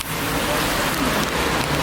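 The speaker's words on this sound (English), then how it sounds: "We have arrived, and it is raining a lot." Heavy rain falls steadily in Paris in springtime, a dense, even hiss of downpour that stays loud and unbroken throughout, with no voices over it.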